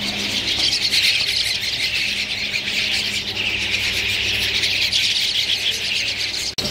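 Royal grey pigeons at a busy Baghdad bird market give off dense, continuous chirps and squeals, a loud flock chorus with no talk.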